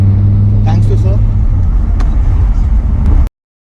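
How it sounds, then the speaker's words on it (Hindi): An Audi R8 supercar heard from inside during a ride: a loud, steady low engine drone with a faint voice briefly over it, cutting off abruptly. "आज ले रहे हैं ऑडी R8 की राइड"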